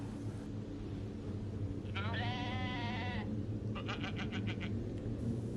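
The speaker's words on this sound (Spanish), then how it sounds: "a lo lejos, poniendo mucha atención, se lograba escuchar el balido de una cabra." A goat bleats at a distance, two wavering calls with a pause between, faint over a steady low rumble of background noise.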